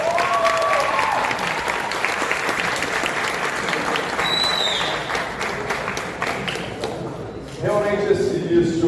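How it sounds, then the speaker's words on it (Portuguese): Sustained audience applause fills a talk show on aerospace engineering, a dense, steady wash of many hands clapping for nine seconds, with a voice breaking in briefly near the end. "Eu queria iniciar esse talk show com uma salva de palmas aos grupos organizadores."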